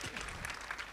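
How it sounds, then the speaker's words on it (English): Audience at a pan-African conference opening ceremony claps in a brief burst of applause, a dense patter of many hands, moderately distant and fairly quiet. "A round of applause for Dr. Bashir once again."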